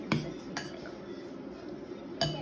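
A fork clinks against a bowl while mashed potato is mixed into a dough for potato bread. Three light metallic taps come close and fairly faint over a quiet background, with no voice heard.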